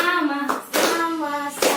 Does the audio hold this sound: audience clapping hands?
yes